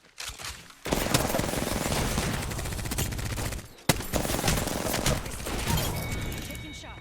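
Sustained automatic gunfire in the Apex Legends video game, dense rapid bursts filling most of the clip with a brief pause midway, loud and close.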